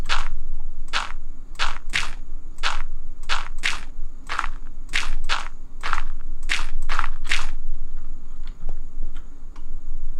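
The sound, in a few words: placing dirt blocks in Minecraft video game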